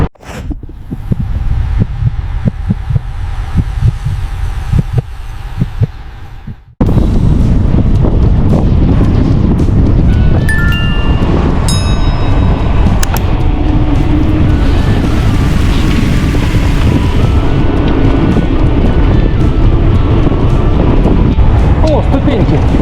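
Strong late-April wind buffets the microphone in a deep forest, a loud roaring rumble that fades briefly, then returns as constant close gusting with rustling and scattered clatter mixed in.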